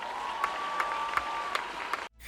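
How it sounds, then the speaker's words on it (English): Church congregation applauding during a sermon, a steady wash of clapping with a few sharper claps poking through, under a sustained tone, ending abruptly. "Can somebody give God a hand clap?"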